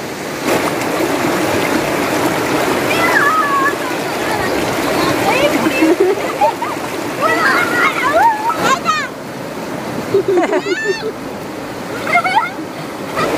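Water splashes and sloshes as someone bathes in the Narmada river, irregular close splashes over flowing water, with faint voices in the background.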